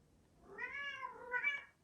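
A pet cat gives a quiet two-part meow, a rising drawn-out cry followed by a shorter second call, close by in an otherwise still indoor room while it waits to be let out.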